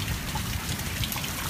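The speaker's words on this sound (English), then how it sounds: "the water's still rivering down the street." Floodwater running down a residential street after a hailstorm, with a steady broadband rush and trickle of flowing water, continuous and fairly close, with no voices.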